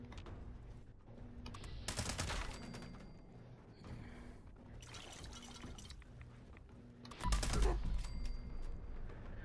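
Gunfire from a weapon in the video game Fallout 76 comes in several short bursts and single shots spread across the stretch, moderately loud over a steady game background.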